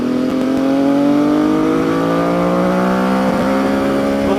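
MV Agusta F motorcycle engine climbing steadily in revs under way on a test ride, a loud continuous rising multi-toned whine close to the rider, no talk.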